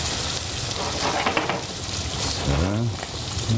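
Bacon crisping in its own fat in a pan sizzles with a steady, close, dense hiss throughout, and a voice briefly joins near the end.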